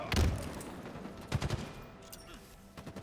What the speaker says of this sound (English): Mewtwo is putting cover fire right now